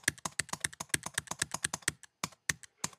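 Numbers are typed on a computer keyboard up close, a fast run of crisp evenly spaced key clicks, then a short pause and a few final taps, with no voices.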